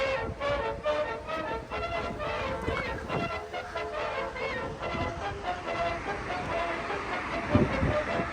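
A Warsaw metro train moves through an underground station, its rumble and rattling wheel clatter echoing loudly throughout, with faint crowd noise beneath.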